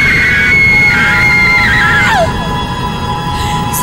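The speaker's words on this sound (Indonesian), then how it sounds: "Aku lantas berteriak histeris berkali-kali." A woman screams hysterically several times in an Indonesian radio horror drama, the shrill cries loud and close, rising and breaking before trailing off over a low rumbling background.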